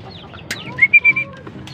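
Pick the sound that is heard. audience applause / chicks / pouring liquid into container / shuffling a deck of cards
chicks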